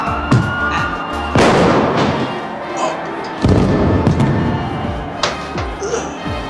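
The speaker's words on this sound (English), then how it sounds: "Fireworks on the street roar" Loud booming bursts of fireworks in the street, several sharp blasts and thuds followed by crackling and rumbling echoes, close by and energetic.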